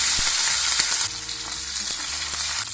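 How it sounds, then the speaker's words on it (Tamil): Green chilies sizzle and crackle steadily in hot oil with urad dal for a green chili tomato chutney, a close, bright frying hiss with occasional pops and stirring knocks, no talking. "பச்சை மிளகாய் போட்டுக்கலாம்."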